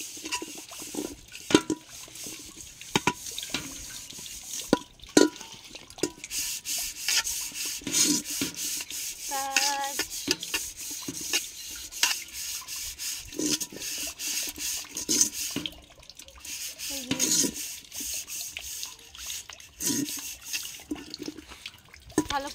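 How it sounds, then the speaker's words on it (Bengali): Someone scrubs a soot-blackened cooking pot at a sink, with repeated rough rubbing and rasping strokes, clatters of dishes and intermittent running water, close and fairly quiet. "হাঁড়িটা ধোয়া হয়ে গেছে তো"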